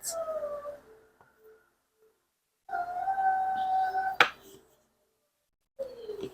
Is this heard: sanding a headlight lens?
no